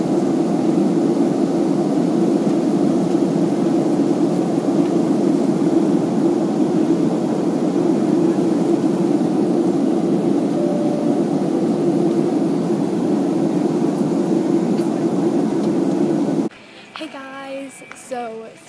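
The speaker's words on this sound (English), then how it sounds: "Okay, so now we are boarding the plane for LA." Steady, loud airplane jet engine drone heard from inside the cabin while boarding a flight to LA, a constant low hum that cuts off abruptly near the end.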